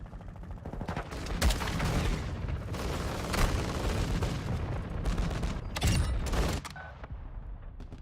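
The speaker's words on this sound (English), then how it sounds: "Hostile mortar strike incoming." Mortar strike explosions in Call of Duty Modern Warfare 2 hit in a loud burst of repeated blasts and rumbling booms, several heavy impacts clustered over a few seconds amid ongoing gunfire.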